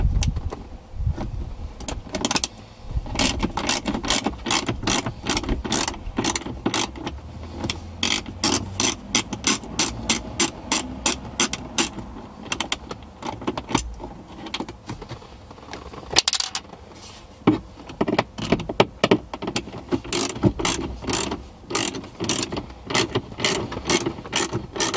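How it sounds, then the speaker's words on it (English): Screws being loosened on a BMW X5 instrument cluster, a long run of quick ratcheting clicks in bursts with brief pauses, close and clear with no talk. "you just need to loosen and take out both these screws"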